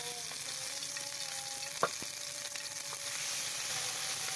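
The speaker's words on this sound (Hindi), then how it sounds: "अदरक लहसुन के पेस्ट को अच्छी तरह से भून लिया है हमने" Ginger, garlic and green chilli paste fries in ghee in a pan, a steady soft sizzle with faint stirring and a brief utensil clink, no speech.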